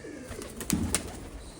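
Faint, low pigeon coos close by, a couple of soft murmuring calls over quiet background hiss.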